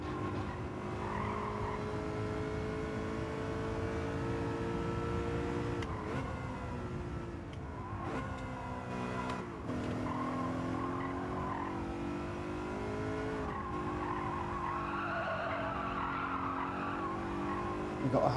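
A race car in Gran Turismo 7 online lobby racing, its engine droning steadily with repeated tire squeals and skids as it chases another car, loud and continuous throughout.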